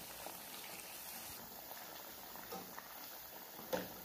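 Potato vada balls coated in batter deep-frying in hot oil, giving a faint, steady bubbling hiss at a distance with a brief clink near the end.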